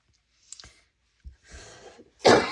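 A person coughs, first a faint breathy sound, then a soft low cough and a harsher mid-length cough, ending in one loud forceful cough close by in a quiet room.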